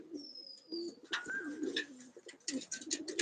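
Domestic pigeons kept in a home loft coo in low repeated bursts, close by, with a few thin higher chirps and whistles mixed in.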